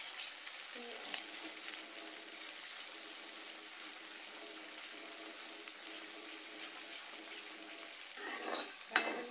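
Masala fries in oil in a home kitchen with a faint, even sizzle, broken by a few soft stirring knocks and a brief utensil clatter near the end.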